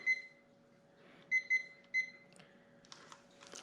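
A kitchen timer beeps in short, clear electronic bleeps, a single one then a quick pair and another, close and alone in a quiet kitchen during bread baking.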